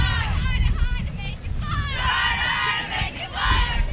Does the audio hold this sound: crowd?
yes